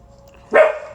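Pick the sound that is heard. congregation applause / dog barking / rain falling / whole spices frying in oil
dog barking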